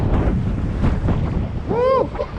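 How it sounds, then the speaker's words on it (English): Strong wind buffets the microphone with a rumbling roar. A voice whoops briefly near the end. "Woo! Windy."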